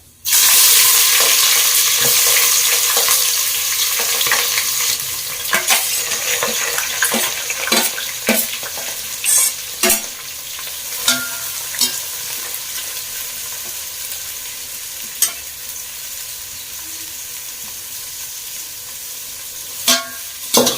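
Chopped onions fry in oil for chicken biryani, starting with a loud burst of sizzling that settles into a steady crackle, punctuated by repeated scraping and clacking as they are stirred.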